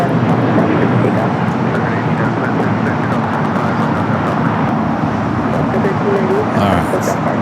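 An airliner takes off from runway 25 at LAX, a loud, steady broadband engine roar filling the whole stretch without letup, with faint voices underneath.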